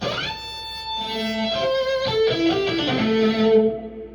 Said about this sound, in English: when I turn it on, you can hear it's got a little bit of echo now